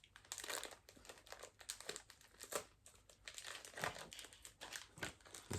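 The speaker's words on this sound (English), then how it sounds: "And so I'm trying to open these plastic bags" Plastic bags from a Wills OO9 model railway cottage kit being pulled open, a close, busy run of crinkling and crackling plastic that rises and falls in bursts, with no talking.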